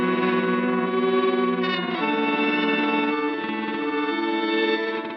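Random forward and reverse time-stretching from a Pladask Elektrisk Fabrikat effect with its mix turned up, giving a thick, sustained, smeared tonal texture with a brief warble near the middle, loud and continuous, no voices.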